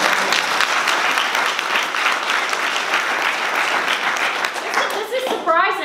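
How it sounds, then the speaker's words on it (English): An audience claps at a Pennsylvania state legislative district candidate event, a dense burst of steady applause that runs for several seconds before fading into a voice at the end. "Thank you for clapping."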